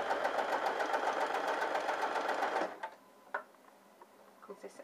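A sewing machine stitching rows of shirring elastic runs in a fast, even, close whir for under three seconds, then stops, leaving soft handling clicks and rustles.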